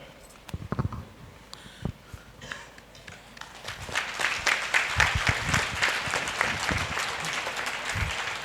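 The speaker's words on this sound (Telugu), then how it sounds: "నేనేం మాట్లాడకుండానే చప్పట్లు కొడతారా?" An audience at a trust gathering in Hyderabad claps, starting with a few scattered near claps and building into steady, dense applause that continues to the end, faint and somewhat distant, with little talking.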